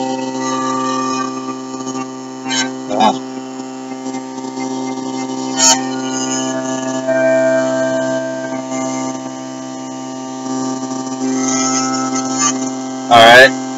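A small electric motor cranked up to 32 volts runs with a steady, loud electrical hum and whine, holding one constant tone throughout with a few brief clicks and a short burst of rattling near the end.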